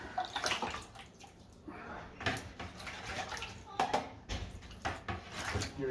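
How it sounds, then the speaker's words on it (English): Water splashes and sloshes in irregular bursts into a container of drywall mud, fairly close, with scraping noises mixed in. "so I like to put some water in it"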